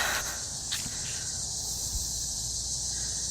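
A constant high-pitched insect buzz, like cicadas, drones steadily in the background, with a few faint rustles and taps nearby.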